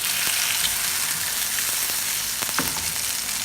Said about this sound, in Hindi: अब मैं इसी में कबाब फ्राई कर लूँगी।